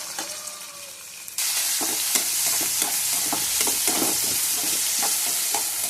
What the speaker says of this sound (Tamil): இப்போ நம்ம தக்காளியை ஆட் பண்ணிக்கலாம்.